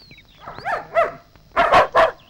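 Dogs bark in a scene from a Malayalam comedy film: a few thin, yelping barks sound at mid distance, quieter at first and then louder in a quick cluster of three near the end.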